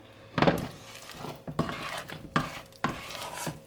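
Homemade playdough being scraped around a pan, with clattering and scraping of a utensil against the metal in several distinct bursts and quieter stirring between them.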